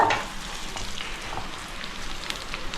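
Dried red chillies crackling and frying in hot oil for gongura pickle, a steady close hiss with dense little pops throughout and no voices.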